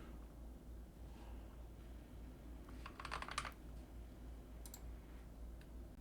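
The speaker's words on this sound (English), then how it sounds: "So we'll type in the email that we set" Keys clatter on a computer keyboard as a password is typed, a short cluster of quick close taps with a few isolated clicks before and after, quiet overall against a low background hum.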